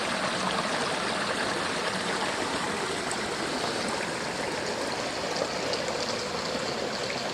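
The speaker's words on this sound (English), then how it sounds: "This creek runs into a larger creek, which is also known to contain gold." A small gold-bearing creek flows toward a larger creek in a continuous, close, evenly rushing and gurgling stream with no talking.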